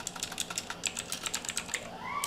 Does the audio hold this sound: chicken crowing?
no